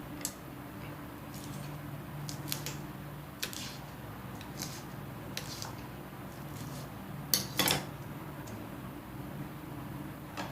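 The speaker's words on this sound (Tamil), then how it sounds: "இப்போ வந்து பச்சை மிளகா வெட்டிக்கிறேன்." A knife chops green chillies on a cutting board, giving scattered sharp taps and clicks, some light and one louder cluster near the end, over a quiet kitchen background.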